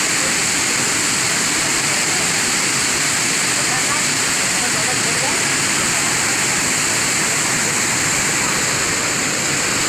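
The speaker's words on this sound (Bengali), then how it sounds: "এখান থেকে কন্ট্রোল করে জলটাকে ওদিকে ছাড়ছে" Water released through the Kansabati dam roars as a steady, loud broadband rush, unbroken for the whole stretch with no pauses.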